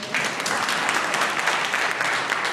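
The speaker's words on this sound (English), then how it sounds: "You're allowed to applaud." A debate audience gives a steady wash of applause. The clapping is dense, even and moderately loud, and it holds for a few seconds.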